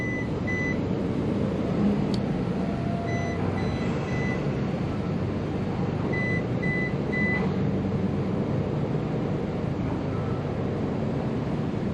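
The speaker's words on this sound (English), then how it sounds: "he won't turn off his AIS alarm there" A boat's AIS alarm sounds as short repeated beeps at an anchorage near Awendaw, South Carolina, over a steady low engine or wind rumble, with no talking.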